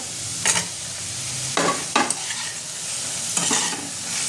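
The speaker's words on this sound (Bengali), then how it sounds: "এটা একটু ভাজা ভাজা করে নেব।" Chopped tomato and ground turmeric, chilli and garam masala frying for soya bhurji, a constant close sizzle broken by several distinct scraping stirs of a spatula against the pan, loud and with no one talking.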